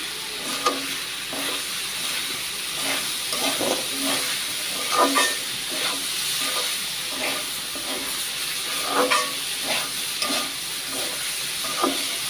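Banana flower bhaji frying in a pan, a loud continuous hiss and sizzle with frequent stirring scrapes and small clatters throughout, close up.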